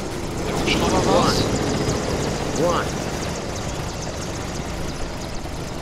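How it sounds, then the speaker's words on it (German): A helicopter in the video game Escape from Podagorsk drones steadily overhead during a firefight, its continuous rotor noise running under excited talk. "Der Hubschrauber schießt auf."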